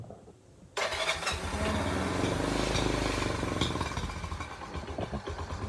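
A Honda Trail 90 motorcycle fires up after a short quiet moment and settles into a loud, close, choppy idle with the choke on, running rough and uneven until the end.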